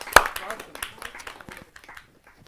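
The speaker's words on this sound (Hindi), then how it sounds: "एक बार जोरदार तालियां सर के लिए।" An audience at a Hindi kavi sammelan poetry gathering claps for a poet, starting with a sharp burst and then thinning to scattered claps that fade out, with some talking mixed in.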